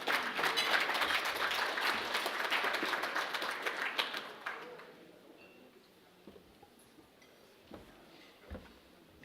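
An audience at an Indigenous Guardians panel applauds a grand chief coming to the podium; a loud burst of clapping fades after about four seconds, leaving scattered faint claps and light shuffling.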